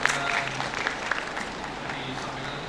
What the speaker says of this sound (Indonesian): Tepuk tangan untuk Mas Yani Lestari.